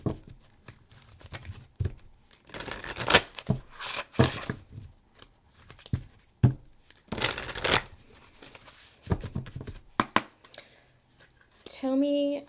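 Oracle cards are shuffled in bursts of papery riffling and rustling, loud and close, with pauses between handfuls and a voice speaking briefly near the end.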